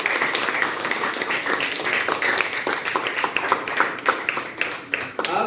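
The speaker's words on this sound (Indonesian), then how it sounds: "Boleh tepuk tangan buat kita semua dulu." A classroom group claps together, producing a ragged, moderately loud patter of hand claps that thins into more distinct individual claps toward the end, with faint background voices.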